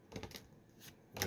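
Pokémon trading cards riffled and shuffled by hand at close range, a few quick papery flutters in short bursts, with a final sharper snap at the end, quiet and alone.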